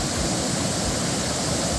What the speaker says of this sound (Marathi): पैनगंगा नदीवरचा सहस्त्रकुंड धबधबा पुन्हा विशाल आकारात प्रवाहित झालाय